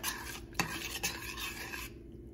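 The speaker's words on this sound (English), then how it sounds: "And of course we want to stir and dissolve." Grits being stirred in a pot on the stove, a steady scraping rasp with a couple of sharp utensil knocks against the pot, close and alone, ending in quiet.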